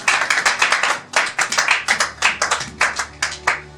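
A church congregation claps together in praise of the Lord, loud sharp hand claps in quick irregular bursts with brief pauses between clusters, close and lively, with faint voices underneath.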